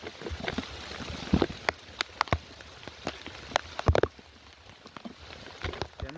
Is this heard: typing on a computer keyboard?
no